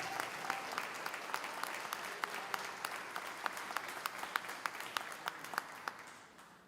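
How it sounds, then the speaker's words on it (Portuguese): Congregation applauding in church, faint steady crowd applause with sharper individual claps standing out at a regular rhythm, sustained throughout and tapering at the end. "Se você crer nisso, aplaude ao Senhor."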